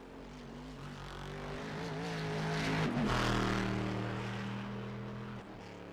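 A GT race car in a video game runs a lap at Interlagos, its engine droning steadily and swelling louder toward the middle as it passes, pitch shifting slightly, with no talk over it.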